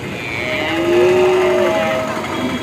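A single long, low moo from a cow with her calf at a weekly cattle market in Anantapur rises and falls close by against a steady background hum.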